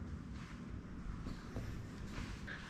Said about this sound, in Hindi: सुना था कि नॉर्थ ऑफ फ्रांस में बहुत तेज़ हवाएं चलती हैं, आज देखने को भी मिल गया है